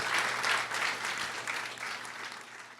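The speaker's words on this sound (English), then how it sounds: "if everyone could please just join me in a round of applause to thank our speakers" An audience at a climate and trade event gives the speakers a round of applause: a brief burst of steady crowd clapping, moderately soft and without voices, lasting about three seconds.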